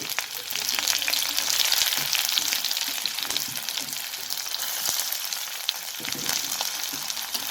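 Onions fry in oil in a pan as the spice base for a pumpkin and crab curry, a bright, even sizzle with faint crackles throughout, close and unbroken, with no talking.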